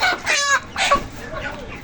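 Chickens at a broiler and sonali chicken market in Bangladesh give loud, close clucking and crowing-like squawks in two quick bursts over about two seconds.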